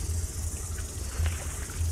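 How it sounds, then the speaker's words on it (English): Cicadas in trees along the Avon River in Christchurch, New Zealand, a steady high continuous buzzing drone that holds throughout at even loudness, with no talking. "Now you can hear up in the trees that we've got the cicadas, which is those lovely creaking noise you can hear."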